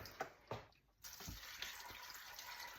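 Cold tap water running and splashing into a pot for homemade bone broth, a steady watery hiss after a couple of faint clinks, close and quiet with no talking.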